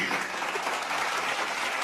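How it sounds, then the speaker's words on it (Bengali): An audience claps loudly together in a dense, steady burst of applause that lasts about two seconds. "জোরে হাততালি হবে সবাই মিলে।"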